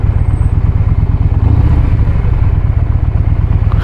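A Yamaha Bolt motorcycle engine thuds out a loud, close, low, pulsing rumble with an uneven beat, running steadily throughout.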